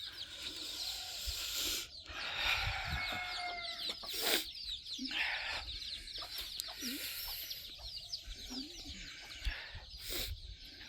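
Chickens in a poultry shed cluck and squawk in scattered bursts through a busy, steady clamour of birds, with faint voices now and then in the background.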